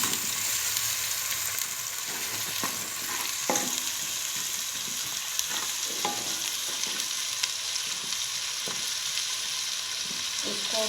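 Ginger-garlic paste frying in oil in a village kitchen pan while being stirred, giving a steady close sizzle broken by repeated scraping stir strokes.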